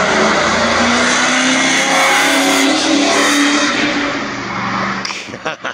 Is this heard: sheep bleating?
no